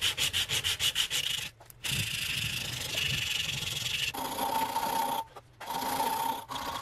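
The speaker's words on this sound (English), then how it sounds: "Time for some sanding." Steady rasping sandpaper strokes on a wooden swimbait fishing lure, starting with quick rhythmic rubs, then longer continuous scraping with brief pauses, close and clear.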